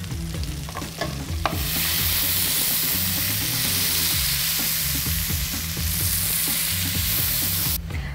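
Garlic and herbs frying in butter and oil in a pan for a sirloin steak, with a steady loud sizzle starting after a soft stir and running continuously, close and unbroken, with no talking.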